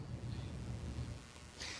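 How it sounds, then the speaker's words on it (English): Rain tapering off in Paradise, California, a soft steady patter and low rumble of falling rain that lightens near the end, with no voices. "the rain has really started to taper off"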